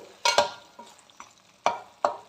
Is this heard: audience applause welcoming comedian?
no